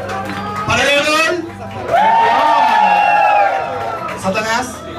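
A bar audience cheers, whoops and claps in two short bursts at the start and end, with a loud voice talking over the crowd between them.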